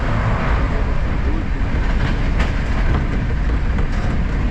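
Lal Kuan–Howrah superfast express train running at high speed between Varanasi and Howrah, a loud continuous rumble and rushing roar with faint rhythmic rail clicks throughout.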